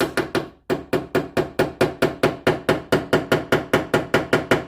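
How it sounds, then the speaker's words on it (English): A small pin hammer strikes furniture wood in a steady, rapid series of sharp, close, loud taps, with one brief pause near the start. "I'm going to hammer that right into where it goes"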